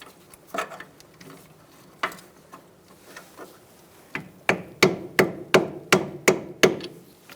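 Metal hammer striking a punch to line up the rear strut mount bolts on a 2002-2006 Toyota Camry, a few scattered taps at first, then a run of eight sharp, evenly spaced blows close by.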